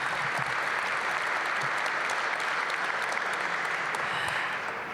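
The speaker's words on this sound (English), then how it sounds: "Give them a big round of applause." A crowd applauding steadily, dense clapping that holds at an even loudness throughout with no voices over it.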